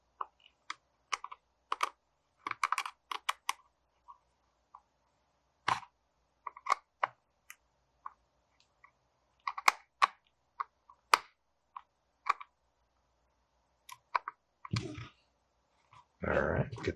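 Small screws being driven down to fasten the insert on an HK Army TFX3 paintball loader, scattered dry clicks and ticks in irregular bursts with quiet gaps, close, ending in a longer scraping rattle.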